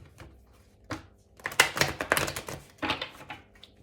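Tarot cards are shuffled close by in a few quick riffling bursts of crisp, papery flutter, separated by short pauses and heard alone.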